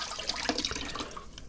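Cold soaking water is poured off sliced potatoes into a sink, a short, busy splashing and trickling of liquid running out close by, with no talking.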